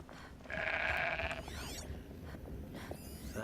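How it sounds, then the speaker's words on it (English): A goat bleats in the video game Horizon Zero Dawn, one clear, loud, wavering bleat over a low ambient game backdrop, followed by softer whistling game sounds. "A goat? What?"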